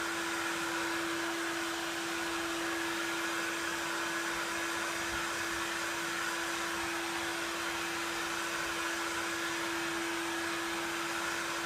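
A hair dryer blows hot air steadily onto a Berghaus Yeti gaiter, a loud continuous whir with a steady hum running unbroken throughout.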